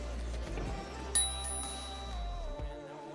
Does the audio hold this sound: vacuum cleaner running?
no